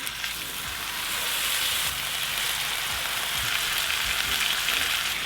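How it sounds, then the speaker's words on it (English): Redfish fillets sizzle and fry in oil in a pan, a steady, dense crackling hiss that swells slightly after the first second and holds loud and close throughout, with no voices. "And it's now time to add our redfish fillets."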